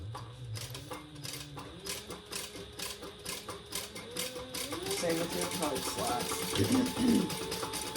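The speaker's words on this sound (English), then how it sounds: "just back stitch a couple times" Sewing machine stitching leather wallet pieces, a rapid repetitive mechanical clatter that speeds and slows as it back stitches, with a person talking over the running machine.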